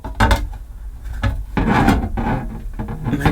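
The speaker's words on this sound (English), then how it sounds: "there are 3 screws I need to undo to remove the cover" Screws are backed out of a caravan light cover, making close, irregular scraping and rubbing bursts with short pauses between them.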